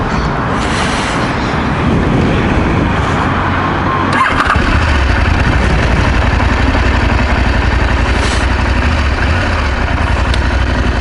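A Norden 901 motorcycle engine idles nearby, a loud steady rumbling throb with a brief blip partway through, running continuously without speech.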